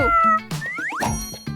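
A short cartoon-style cat meow rises in pitch, surrounded by bright ding and boing effects in a children's outdoor game, loud and close over about a second and a half.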